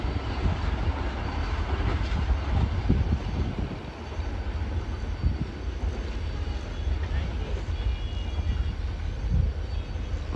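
The Allama Iqbal Express rushing at speed through Dabheji railway station in Pakistan, a continuous heavy rumble and rattle of wagons that stays loud and close throughout, with no break in the roar.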